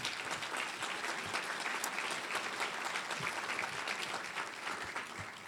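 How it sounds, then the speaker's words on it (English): Audience applause for a panel at a Rotary club talk, a steady wash of many hands clapping that sustains evenly throughout. "let's give our panel a round of applause"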